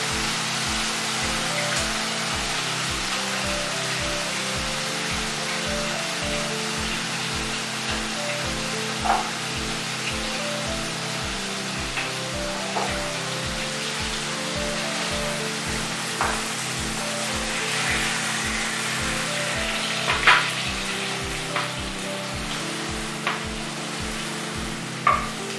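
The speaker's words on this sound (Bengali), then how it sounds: "ভাজাটা হয়ে গিয়েছে, হালকা একটু করে ভেজে নিতে হবে" Ingredients for a spicy chicken curry fry and sizzle steadily in a pan, with a continuous hiss broken by occasional clinks and scrapes of stirring, close and moderately loud.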